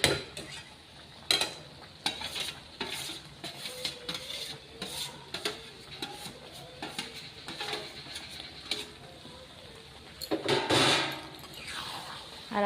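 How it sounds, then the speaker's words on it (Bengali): Paneer pieces tipped into a pan of cooked-down masala for dhaba-style matar paneer and stirred around, giving repeated scraping clinks of a spoon against the pan, with a louder clatter and sizzle near the end. "মশলাটা কষানো হয়ে গেছে, এই সময় আমি এবারে পনিরগুলো দিয়ে দিচ্ছি"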